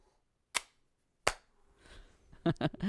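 Two sharp, separate hand claps ring out in a quiet room about a second apart, followed by a few soft voices talking.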